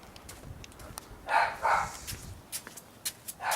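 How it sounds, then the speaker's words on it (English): A dog named in a pineapple garden barks twice in quick succession at mid distance, followed by scattered lighter outdoor knocks and clicks with no talk. "And that's Joey barking."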